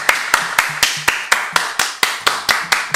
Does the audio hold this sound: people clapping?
yes